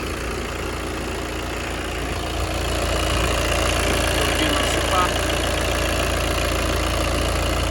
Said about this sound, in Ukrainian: Відзнімемо ще роботу двигуна